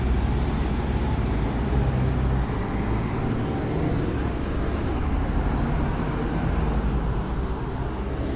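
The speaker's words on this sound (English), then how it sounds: "And there's a bus parking in front of it" A bus parks on a street in Rome, its engine rumbling steadily at close range for several seconds amid broad traffic noise, with no clear breaks or voices.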